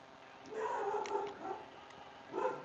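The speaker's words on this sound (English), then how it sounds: "That's my dog." A dog barks a few times, short yipping, whimpery bursts at moderate distance, with gaps between them and no talk over them.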